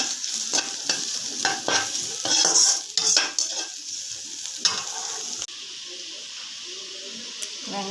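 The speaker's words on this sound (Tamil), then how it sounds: "வெங்காயம் கொண்டு வதக்கிக்கலாம்." Onions stir-fried in a pan for a snake gourd fried rice, with a steady sizzle and repeated scraping, clinking stirs of a utensil against the metal pan, loud and close, no talking.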